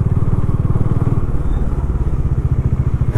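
Motorcycle engines idling and rumbling close by as bikes on a Nashik to Daman ride are parked in a line at the beach, a loud steady low throb that pulses faster in the second half.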